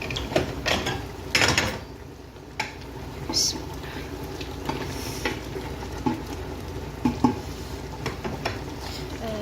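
Meat sizzles in a pot of vegetable stew as it is stirred, a continuous frying hiss broken by scraping and clattering utensil knocks at irregular intervals.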